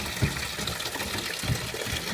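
Water gushing steadily from a newly installed water supply, a continuous rushing flow at moderate level with a couple of brief splashing bursts.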